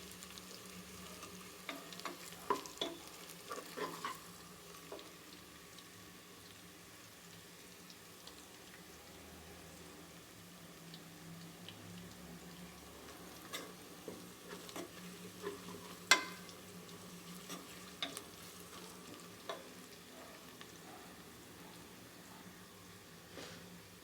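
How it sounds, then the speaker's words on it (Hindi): Ginger frying in a pan for dal mash, a soft, steady sizzle with scattered scraping stir clicks, fairly quiet and without speech. "हमें इतना अच्छे से भूनना है कि अदरक की जो स्मेल है वो ख़त्म हो जाए"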